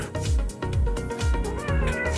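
A pet cat meows repeatedly at night, several close, drawn-out calls in quick succession, loud and clear, with no talking during the calls.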